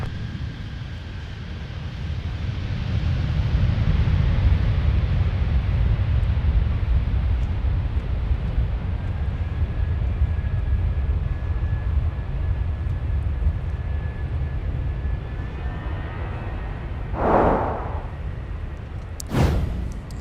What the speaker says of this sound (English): Take another look at CPS 2568 touchdown from Louisville.